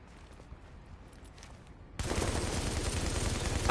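Light machine gun fire in the shooter game The Division, a sudden loud sustained burst of rapid shots starting midway after a quiet stretch and running to the end.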